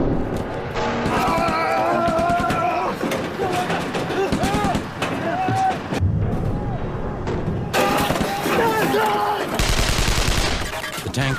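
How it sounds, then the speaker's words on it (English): Loud, sustained machine gun fire from tanks rattles in dense bursts with booming impacts during a Korean War battle at Kapyong, while a narrator speaks over it. "The tanks hose each other with machine gun fire to wipe the enemy off"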